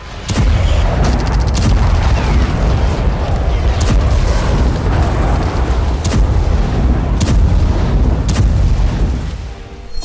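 Russian aerial glide bombs with guidance kits explode in heavy bombardment, producing a sustained, loud roar of booms and blasts with sharp cracks rising out of a dense rumbling wall of sound.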